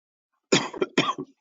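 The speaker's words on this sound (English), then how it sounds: "sorry for coughing a little bit" Two quick, sharp coughs close to the microphone, each with a short follow-up, in an otherwise quiet room.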